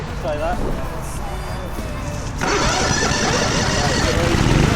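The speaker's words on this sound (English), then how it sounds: "So, engine started." A racing lawnmower engine fires up partway through on the starting grid in the rain, jumping to a louder, steady rough running note that continues to the end over background noise.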